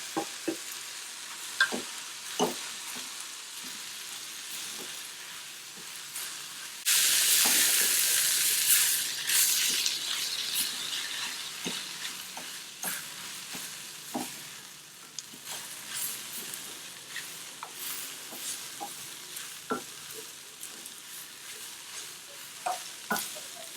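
Flat beans stir-fried with coconut for a Tamil-style poriyal sizzle softly in a pan, with a burst of louder frying when the coconut goes in and scattered scraping stirs after.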